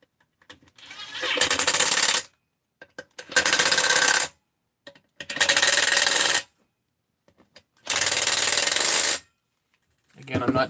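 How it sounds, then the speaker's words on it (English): An impact wrench runs in four loud, close bursts of about a second each, driving bolts on a 660 engine, with quiet gaps and small clicks between the bursts. "I'm not trying to tighten these with the impact."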